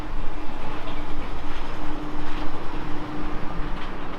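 The Alton Towers monorail train runs along its rail, a loud steady rumbling roar with a faint sustained hum, close and continuous throughout.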